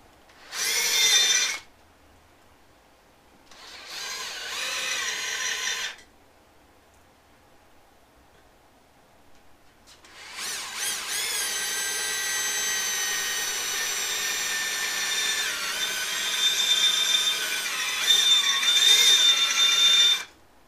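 Close power drill whirring into a metal Comstar wheel hub from a Honda CX500 in a few short bursts, then one long sustained run with a piercing, slightly wavering whine.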